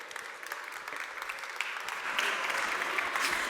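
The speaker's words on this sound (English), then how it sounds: "one more big applause" An audience applauds after a talk on creativity and innovation; the clapping is steady and builds in volume, with some talking underneath.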